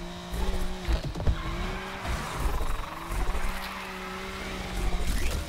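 A Subaru BRZ on stock tires drifts in the racing game Need for Speed Unbound, its engine droning and revving while tires squeal and skid in repeated bursts, up close and alone.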